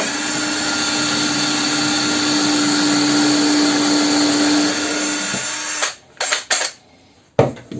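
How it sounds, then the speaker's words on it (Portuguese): A power drill bores a hole in wood in a woodworking class, a steady close whine for about five seconds before the motor winds down, followed by a few short bursts of handling noise. "Fura um pouquinho, limpa a broca. Volta e termina o furo."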